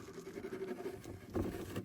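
Factory oil drains from a Zonsen Carrera 300 motorcycle in a close, uneven trickling patter, briefly louder near the end.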